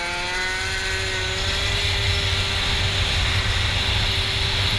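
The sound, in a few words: moped engine accelerating on throttle during race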